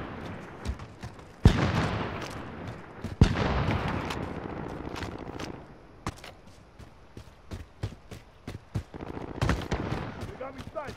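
Sniper and other gunfire in Call of Duty: Modern Warfare, scattered sharp cracks, a few loud close shots among fainter distant ones, with rumbling battlefield noise and players talking intermittently.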